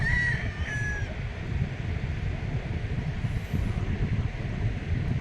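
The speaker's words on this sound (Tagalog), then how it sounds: "may isang grupo din na mga ibon doon banda oh" Birds call at a seashore in the morning, a few clear, shrill cries early on and a faint one later, over a steady low rumble of wind or surf.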